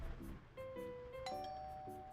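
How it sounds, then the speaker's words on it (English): A doorbell chimes in the dating game Love Curse: Find Your Soulmate, clear ding-dong tones repeated several times with ringing sustained notes over quiet background music. "It doesn't take long before the doorbell rings."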